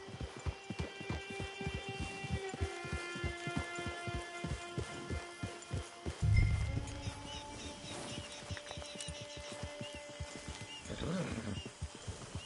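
Steady clip-clopping horse hooves in a video game, an even trotting rhythm over ambient wildlife and a low thud midway, continuing more faintly afterward.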